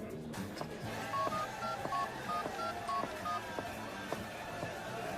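A phone number is keyed in as a quick string of separate dialing beeps in an even rhythm, fairly close and clean, with no one talking over them.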